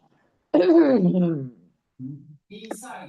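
A person clears their throat in a drawn-out, raspy rumble, followed by two shorter throaty grunts after a brief pause.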